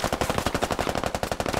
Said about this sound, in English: Shots coming up.